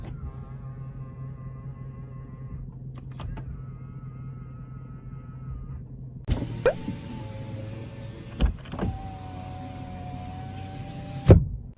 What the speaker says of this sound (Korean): 접이식 사이드 미러,